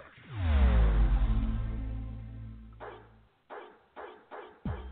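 A dog barks and yips several times in short bursts, loud and close, after a long drawn-out howl-like whine at the start.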